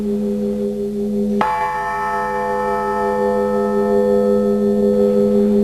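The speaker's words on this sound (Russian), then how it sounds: "Большое внимание уделяется колоколам." A single church bell strike rings out loudly and close, its sustained tones lingering for several seconds over a continuous low hum.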